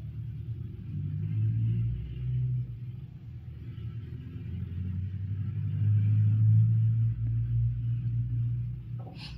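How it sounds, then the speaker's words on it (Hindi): A sewing machine stitches the seam of a palazzo pant with a steady, low motor rumble. The hum is close and continuous, swelling slightly and easing near the end, with no talk. "अब बिल्कुल मेनी के बराबर हम लेते हुए यहाँ मेनी से स्टार्ट करेंगे सिलाई लगाना, दोनों तरफ बराबर आ जाए।"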